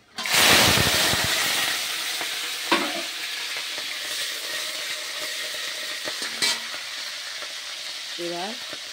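Slit green chillies dropped into hot oil with bay leaves and dried red chillies for a spice tempering, a loud burst of sizzling that settles into a steady fry with occasional spoon scrapes and clinks.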